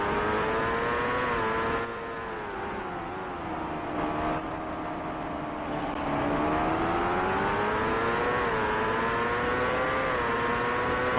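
Race car engines from Indycar Racing II at the 1989 Meadowlands Grand Prix, including a Newman Haas car, a continuous loud buzzing engine drone that rises and falls in pitch through shifts and acceleration.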